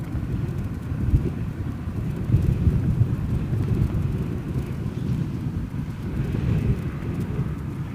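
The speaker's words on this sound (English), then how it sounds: "All the wind's blowing" Gusty wind buffets a microphone outdoors at an airfield, a continuous low rumbling roar with surges and no voices.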